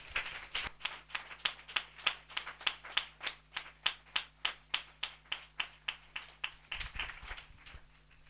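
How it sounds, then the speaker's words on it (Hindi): Rhythmic clapping welcoming listeners at a Christian spiritual assembly, a regular run of about three crisp claps per second, fairly quiet and closely spaced, with no voices. "हम जोरदार तालियों से उनका स्वागत करें।"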